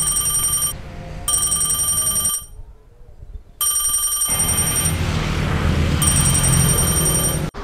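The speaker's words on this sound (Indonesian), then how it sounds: "Hah? Pak Ladusin telepon" A telephone rings loudly and nearby in repeated electronic trills, broken by a short gap of near silence before ringing resumes, with background noise between bursts.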